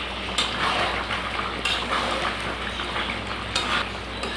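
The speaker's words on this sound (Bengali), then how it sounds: "টক দই দেওয়ার পর আর একটু ভালো করে কষিয়ে নেব" Meat cooked down with sour yogurt sizzles steadily in a pan, a continuous frying hiss broken by a few brief scraping stirs of a spatula, close and fairly loud with no voices.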